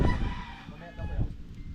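Chicken clucking during a chicken slaughter at a team Christmas party, heard as brief, low, muffled clucks amid busy background noise and nearby voices.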